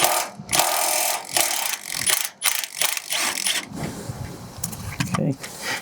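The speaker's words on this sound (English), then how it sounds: "You can get your Milwaukee in there and just go ahead and rattle that off." Milwaukee impact wrench rattling an 18mm nut off the upper rear shock mount of a 2004-2008 Ford F150, loud close bursts of hammering that stop and start, followed by quieter handling noise.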